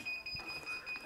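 A heat press timer sounds a steady, high electronic beep after curing a printed T-shirt. The tone holds faintly over the whole moment, with light room noise beneath.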